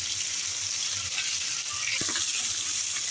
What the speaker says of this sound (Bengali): এই যে ভাজার জন্য দিয়ে দিয়েছি এবার এক পাশ লাল করে